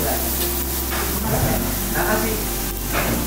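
Two slices of thick-cut premium meat, seasoned with salt, sizzle on a grill, giving a steady, loud, close hiss and crackle throughout.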